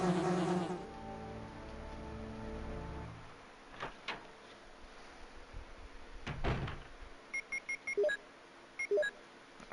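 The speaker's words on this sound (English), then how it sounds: "I don't know how much damage the bees do." Bees buzzing in the survival horror game Resident Evil 1, a droning insect hum behind game sounds, with a few short beeps near the end and no talking.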